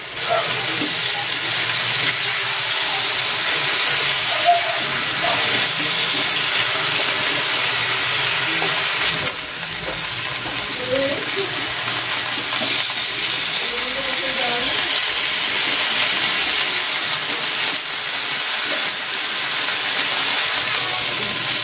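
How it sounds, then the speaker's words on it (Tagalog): Chicken pan-grills in olive oil with a loud, continuous sizzling hiss that holds steady throughout, with faint clinks of utensils now and then. "I-pan grill ko muna itong chicken."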